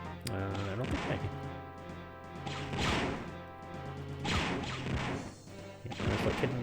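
Blaster shots striking glass in Star Wars: Dark Forces, repeated loud smashing impacts with whooshing sweeps, spaced every second or two, with a voice faintly under the action.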